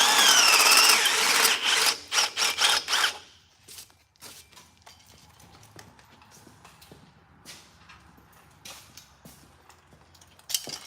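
A loud power drill with a Milwaukee step bit whines and grinds through metal for a few seconds, then stops, followed by quieter clicks, creaks and handling noises.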